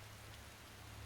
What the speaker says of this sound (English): This rain is pretty ridiculous, but let's continue on my way.